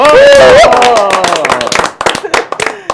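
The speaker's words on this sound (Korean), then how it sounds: "박수 한번 치겠습니다" A studio audience claps during a live Korean talk broadcast: a voice speaks at first, then a burst of many hands clapping follows, close and fairly loud, with scattered uneven claps fading toward the end.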